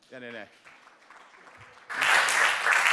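Audience applause breaks out at a conference speech, rising abruptly after a short spoken phrase and quieter stretch, then holding as dense, fairly loud clapping to the end.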